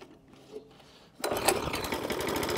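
Vintage Atco lawn mower engine, long stored, catching and running after a quiet start, a loud, steady rapid chugging that continues to the end.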